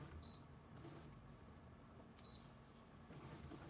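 Two short, high electronic beeps from a sublimation printer about two seconds apart, faint against a quiet room hum.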